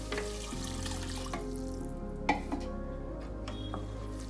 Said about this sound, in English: Now I'm going to add the boiled chana and also water.